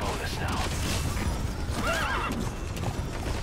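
Horse whinnying in the video game Metal Gear Solid V, a couple of brief neighs over busy game noise with hoofbeats and some speech mixed in.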